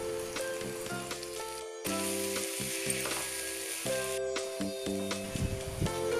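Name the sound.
ginger garlic paste, turmeric, salt and chilli sizzling in pan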